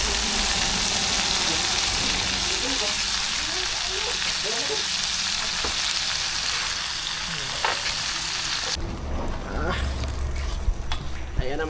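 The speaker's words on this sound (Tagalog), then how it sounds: "gisahin natin yung huli natin na uwang" Freshly caught uwang freshwater prawns sautéing in a pan, a loud steady sizzle with stirring scrapes throughout, while people talk over the cooking.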